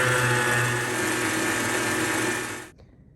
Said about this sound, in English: I'm going to use the whisk attachment. And whisk it until it's light and fluffy.